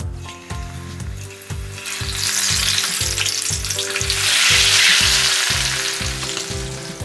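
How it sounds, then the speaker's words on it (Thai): Pieces of taro deep fry in hot oil for a Thai fish and taro dish, a loud, steady hissing sizzle running throughout with a regular rhythmic knocking underneath, no voices. "ตอนนี้ตัวน้ำมันก็เริ่มร้อนพอสมควรนะครับเราจะมาทอดเจ้า ตัวเผือกก่อนเลยนะครับ"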